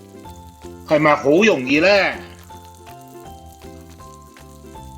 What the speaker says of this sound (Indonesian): 煎到兩邊都金金黃黃咁樣，咁個肉餅就做好㗎啦